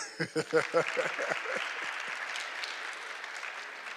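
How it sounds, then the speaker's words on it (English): Lecture audience clapping for a participant, opening with a few separate loud claps that quickly blend into a soft, fading patter of applause from the room. "Oh, come on, clap for him."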